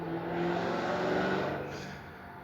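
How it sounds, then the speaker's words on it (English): A loud car engine roars and revs as it passes close by, swelling to a peak before fading away, alone with no talk. "Whenever you hear cars go by and you hear like those real loud cars"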